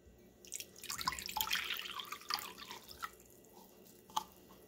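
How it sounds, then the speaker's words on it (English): Lukewarm water pours into a mixing bowl for bread dough, a close, gentle splashing and trickling that comes in uneven bursts and then tapers off into a few faint drips. "Now we add 1 cup of lukewarm water."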